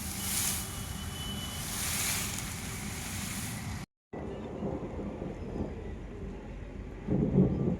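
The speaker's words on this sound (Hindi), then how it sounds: "हमारे यहाँ तो पानी पड़ गया है।" Thunder rumbles low over steady rain hiss outdoors during the wheat harvest, with a brief dropout partway through and a louder rumble building near the end.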